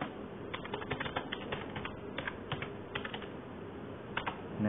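Computer keyboard typing while writing Arduino code, a steady run of soft irregular key clicks at close range over a faint background hum, with no voice over it.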